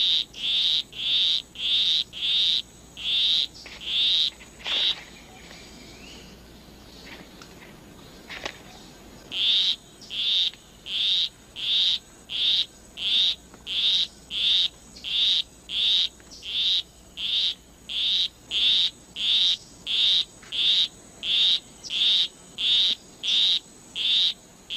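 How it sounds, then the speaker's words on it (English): A male poison arrow frog in a rainforest gives a monotonous courtship call of rapid, evenly spaced high trills in a long regular series, loud and close, with a brief pause partway through before the pattern resumes. "A male poison arrow frog is courting a female. With his monotonous song, he will try to entice her to follow him under a leaf"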